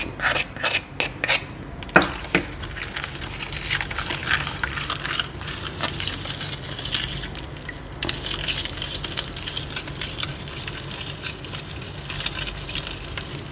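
Metal utensil scraping and clinking in a pot while salt and palm sugar are stirred for Makassar toppa lada, with sharp taps at the start then steady soft rasping close by, no speech.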